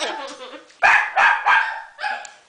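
A dog barks in a quick run of three or four loud, sharp barks, then one more after a short pause, with a person's voice briefly heard just before.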